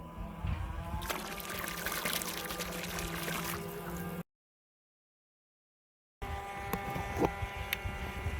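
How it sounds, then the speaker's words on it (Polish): A Parkside PRPA 20-Li A1 cordless battery pump moves water from a small tub into a canister, giving a steady pouring, trickling rush with a faint motor hum, broken by a gap of silence before resuming. "ostatni raz już przepompuję z tej wanienki do baniaka wodę"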